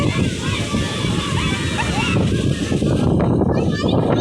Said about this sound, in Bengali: আজকে দেখো কি দারুণ ঢেউ দিচ্ছে মা।